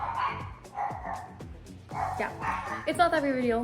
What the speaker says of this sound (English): And I'm sure you guys can hear the dogs barking upstairs.